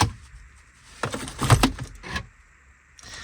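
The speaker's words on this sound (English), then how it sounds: "keys in ignition" Car keys jangle and scrape as they go into the ignition of a BMW E90-series car, a loud, close metallic rattle lasting about a second amid soft interior clicks.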